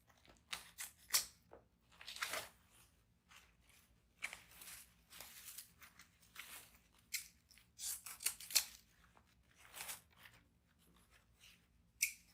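Scissors snip through deco mesh to cut dovetail ends for an Easter bunny wreath, giving a series of crisp, irregular close-up cuts and rustles with short quiet gaps between them.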